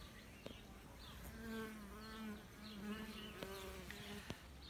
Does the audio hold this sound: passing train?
no